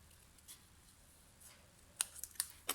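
Scissors trim paper for a handmade card, with several crisp snips and cuts clustered near the end after a quiet stretch, close and fairly soft, and no talking.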